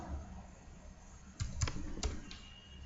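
Typing text on a computer keyboard at a desk, a few sharp, close key clicks in a short irregular burst over quiet room hiss, with no talking.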